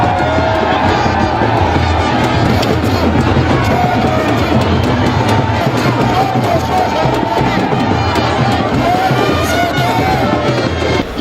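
A massive crowd of enthusiastic supporters at a Cross River governorship campaign rally roars steadily and loudly throughout, a dense wall of cheering and babble with no break.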